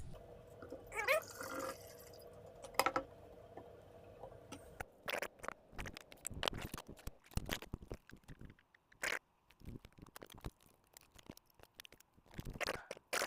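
Water poured into a gravity water filter chamber, a hiss of pouring at first, then a long run of scattered drips, splashes and small crackling taps, close up with no talking.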